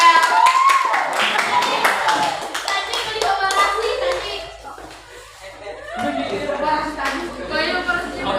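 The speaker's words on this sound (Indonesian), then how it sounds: "tepuk tangan dulu" Junior high classroom students applaud together in a burst of hand clapping, with children chattering and laughing through and after the applause, which fades before picking up again.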